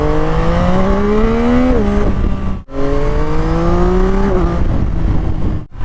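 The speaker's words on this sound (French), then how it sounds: "Je crois que je commence à préférer le 3 cylindres au 4 cylindres niveau sonorité" Yamaha MT-09 SP three-cylinder motorcycle engine revving up hard through the gears, rising pitch climbing then dropping at each shift, loud and close with a brief cut around mid-clip.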